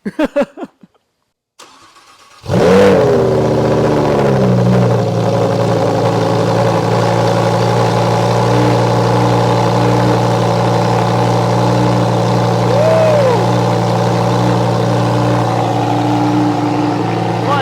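A Lamborghini Huracan Technica engine with a Ryft titanium exhaust starts with a sharp roar, then settles into a loud, steady, deep idle with a brief rev partway through.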